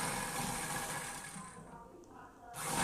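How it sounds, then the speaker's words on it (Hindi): An electric sewing machine runs steadily, stitching along the buckram edge of a lined suit, its dense whirring motor hum continuous and close, dipping briefly before surging back at the end. "ये देखिए बुकरम के किनारे से सिलाई हम कंप्लीट करेंगे।"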